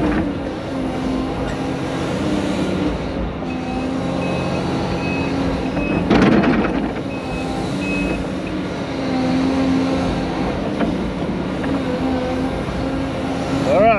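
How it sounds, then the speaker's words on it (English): Hyundai haul truck sounding a steady repeating reversing beep alongside a continuous diesel engine rumble on a mining pile, fairly close, with a brief louder burst midway and light background talk. "look at that Hyundai haul truck over there"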